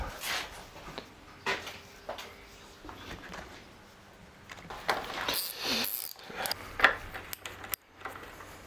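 Bolts being unscrewed on a Yamaha YBR 125 motorcycle give scattered, quiet metallic clinks and ratchet-like ticks, with short bursts of handling noise between pauses and no talk.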